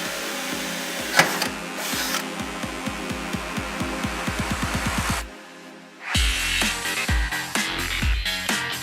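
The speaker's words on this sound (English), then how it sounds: "Using an 11mm drill, make a hole in the earlier noted point of contact with the door bracket." A power drill with an 11mm bit whirs in a series of short, rapid bursts boring a hole in a door bracket, then pauses briefly before grinding again in longer, rougher pulses close by.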